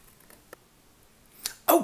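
Scissors snip through paper while cutting out pieces for a Mando helmet: a few quiet, sharp clicks spaced irregularly, ending in two slightly louder cuts close together.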